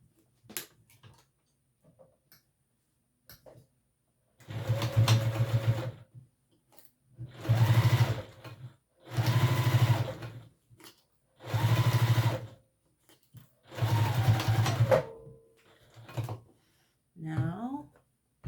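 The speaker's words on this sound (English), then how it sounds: "then we're going to baste the top flap on." A sewing machine basts the top flap of a sewn piece in five separate bursts of rapid, close stitching, each a few seconds long, with quiet pauses and brief low voice sounds between them.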